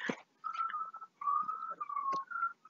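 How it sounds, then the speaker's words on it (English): A person whistles a few sustained, wavering notes in short phrases, close and fairly loud, with a brief sharp sound at the start and in the middle. "You know how to whistle."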